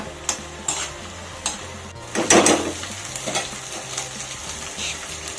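Vada pav filling roasting in a pan over high flame, with a steady low sizzle, light spatula clicks against the metal, and one louder scraping stir in the middle.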